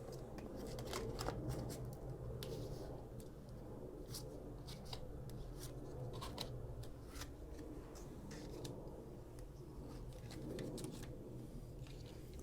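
Oracle cards handled and drawn from a deck, soft papery shuffles, flicks and slides close by, quiet and intermittent over a faint low room hum, with no voice.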